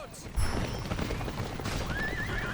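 A horse whinnies and hooves clip-clop in the video game Battle for Middle-earth II during an attack on Lorien, the sounds moderately close and mixed with other game noises and talk.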